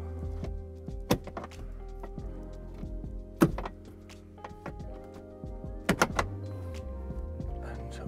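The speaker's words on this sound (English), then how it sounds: "pull off the door poppers." Several sharp plastic pops and snaps as door trim clips are pried loose from a camper van door, scattered across a quiet background with light handling noise between them.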